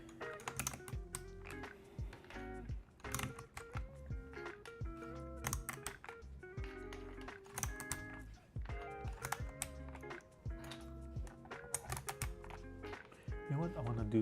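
Keycaps being pressed and clicked onto a Redragon K552 mechanical keyboard, after swapping over a set of Razer PBT keycaps: a dense run of sharp plastic taps and clacks close up, with someone talking throughout.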